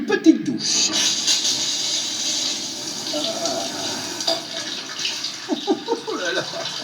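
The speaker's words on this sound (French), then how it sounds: "une petite douche" Shower water runs as a steady broadband hiss throughout, with brief splashy bursts near the start and toward the end.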